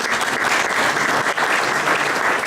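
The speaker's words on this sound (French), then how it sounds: "Je peux les applaudir." Loud, dense applause from an audience at an end-of-season gathering where exam results are announced, a continuous rush of many hands clapping close by for a couple of seconds without talk.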